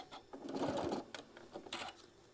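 A sewing machine stitches quilt block pieces in short, quiet bursts of rapid mechanical clatter, heard close up.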